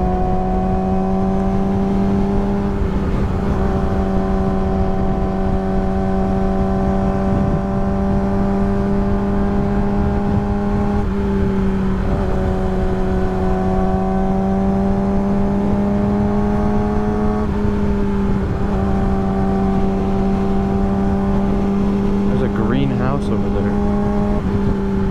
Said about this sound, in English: this bike sounds crazy with a quick shifter